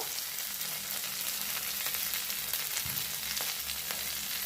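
Cumin powder and ginger paste fry in a pan, giving a steady, dense sizzle with faint crackles throughout and a soft scrape or two; no voices.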